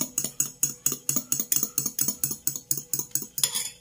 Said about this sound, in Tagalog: naghahalo ng ating puting itlog